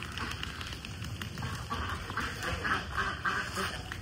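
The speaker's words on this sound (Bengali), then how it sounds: "হাঁসে যে দৌড়াদৌড়ি করতেছে" Ducks on a duck farm raising white geese and white Chinese ducks, quacking in a busy overlapping chorus while running about, steady and fairly close over a noisy outdoor background.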